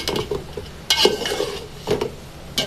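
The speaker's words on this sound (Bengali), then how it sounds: "এখন শাকটা আমি চিংড়ি মশলার ভিতরে দিয়ে দিব।" Malabar spinach is stirred into frying prawn masala, with close scraping spoon strokes against the pan at irregular intervals over a soft continuous sizzle.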